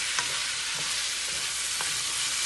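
Onions, thyme, pimento and Scotch bonnet pepper stir-fry in coconut oil in a pan, giving a steady close sizzle with a few soft scrapes as they are stirred, and no talking.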